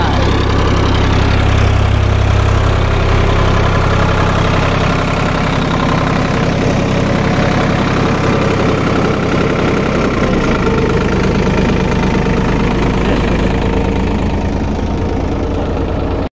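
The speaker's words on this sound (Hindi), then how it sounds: "गाइस अभी जो है फाइनली ट्रैक्टर यार फिर से स्टार्ट हो गया ये देखो" A tractor engine running steadily at idle after being restarted, a loud, continuous low rumble with a slight knocking throb that holds close to the microphone for the whole stretch.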